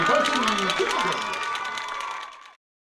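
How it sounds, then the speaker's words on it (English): Crowd at a high school playoff football game cheers and applauds the Blue Academy varsity cheerleaders, a loud, dense burst of cheering and clapping that fades slightly before cutting off abruptly. "another round of applause for the Blue Academy varsity cheerleaders"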